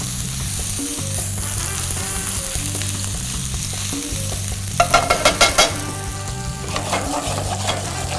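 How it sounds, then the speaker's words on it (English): Pork chops searing in a good amount of butter in a pan, with a loud, steady sizzle and crackle throughout and a burst of spattering pops partway through, with no talking. "A good amount of butter will sear the pork chop on both sides"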